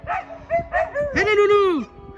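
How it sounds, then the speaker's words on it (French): Sled dogs in their enclosure let out a quick series of close yips and barks ending in a drawn-out rising and falling howl-like whine, loud and near. "ils se mettent en route les chiens"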